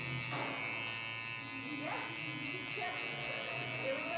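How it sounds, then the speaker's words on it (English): A Babyliss SnapFX hair clipper fitted with a number 4 guard buzzes steadily and close through a fade haircut, with brief strokes shifting its tone as it floats over the hair. "I can just use my 4 and float the clipper as needed"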